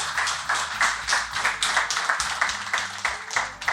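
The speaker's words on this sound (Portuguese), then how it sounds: "Uma salva de palmas," A stand-up comedy audience applauds at a live special, a steady run of clapping that stays fairly loud and even throughout.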